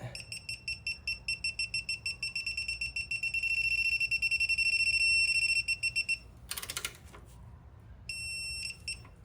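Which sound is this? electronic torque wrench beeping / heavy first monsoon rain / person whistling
electronic torque wrench beeping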